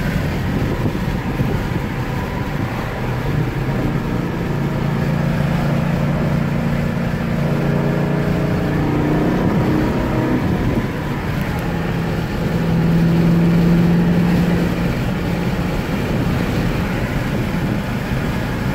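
A 2011 Dodge Challenger R/T cruising in sixth gear at about 58 mph near 1,400 rpm, heard from inside as a steady, low engine drone blended with road and wind noise, with no talking.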